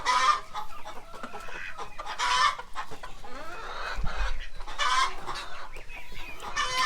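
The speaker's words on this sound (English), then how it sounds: "Boy, you a funky looking chicken." Chickens in a barn cluck and squawk close by in a busy, overlapping chorus, with sharp calls scattered among softer clucking throughout.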